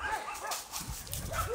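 Dogs bark and yip a few times amid a noisy outdoor forest setting, moderately distant and partly masked by background sound.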